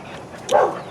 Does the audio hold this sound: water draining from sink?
no